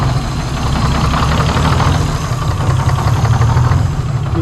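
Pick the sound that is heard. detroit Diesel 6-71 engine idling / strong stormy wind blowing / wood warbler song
detroit Diesel 6-71 engine idling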